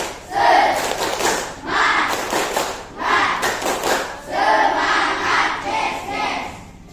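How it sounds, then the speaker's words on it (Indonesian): Schoolchildren perform a rhythmic spirit clap (tepuk semangat) in a group, with repeated bursts of clapping and chanted shouts rising and falling in a steady pattern, fairly loud and close. "Coba tepuk semangat dulu."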